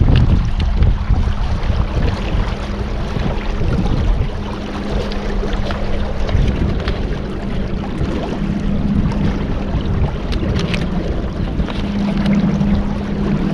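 A boat cruising on the Colorado River to and from Hoover Dam, giving a steady, close engine drone with a low hum, mixed with constant wind buffeting and water rush and no talking.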